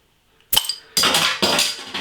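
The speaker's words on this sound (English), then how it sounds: "Let's get the beer out into a glass and see what we get." Brewdog Casino Rye Ale is opened, with a sharp pop and hiss, then poured into a glass in three loud, close, frothy gushes separated by short pauses.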